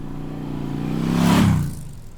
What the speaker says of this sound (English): we have a motorcycle drive-by sound that's occurring